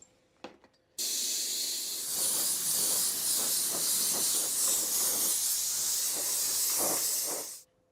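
Aerosol spray paint in fluorescent red hissing onto an RC car body, one steady close hiss running about seven seconds after a couple of short clicks, with faint rhythmic rattling underneath.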